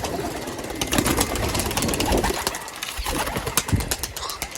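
A flock of pigeons taking off and flying away, with bursts of wing flapping and fluttering over a busy background, close by and fairly loud, with no talk.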